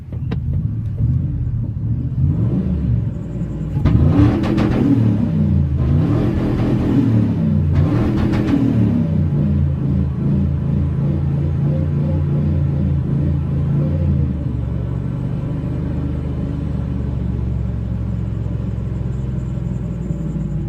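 A supercharged 2000 Ford F-150 with a 5.4 V8 revs hard three times in quick succession over its rumbling idle, then settles into a steady, loud idle.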